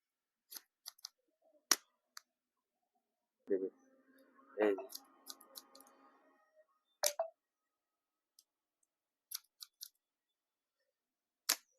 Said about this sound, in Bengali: যদি আপনি এই কাটিং এর মধ্যে পাতলা কাঁচিটা ব্যবহার করেন